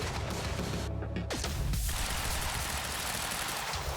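Sniper fire in the video game Quantum Break: a burst of sharp, heavy gunshots rings out with a brief silent gap, followed by dense rattling fire and reverberant echoes, loud and up close.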